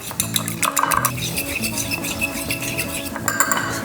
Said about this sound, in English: And we'll mix that up